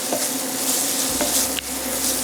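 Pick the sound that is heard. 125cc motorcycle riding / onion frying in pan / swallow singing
onion frying in pan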